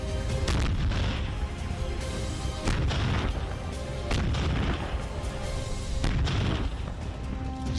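Heavy howitzer artillery cannon fire in the war in Ukraine booms repeatedly, with loud deep blasts about every one to two seconds over a dense, continuous rumble and no talk.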